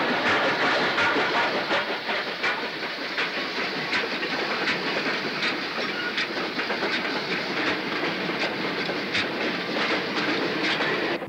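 A fully loaded steam freight train of 11 wagons plus brake van, about 1,000 tons, rolls past close by on the Wirral, a loud steady rumble and hiss with a regular clickety-clack of wheels over rail joints.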